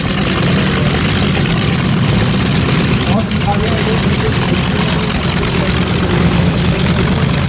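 A tractor engine under renovation idles steadily with a loud, continuous low rumble that runs the whole time without letup, close to the listener.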